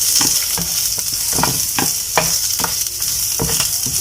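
Dried red chillies fry in butter in a pan for a pasta dish, with loud, rhythmic stirring scrapes repeating about twice a second over a constant close sizzle.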